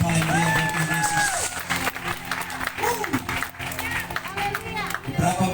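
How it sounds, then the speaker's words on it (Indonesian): Crowd at an outdoor market evangelism gathering applauding loudly, sustained clapping mixed with cheers and shouting voices, dense and continuous. "Berikan tepuk tangan yang paling meriah bagi Yesus."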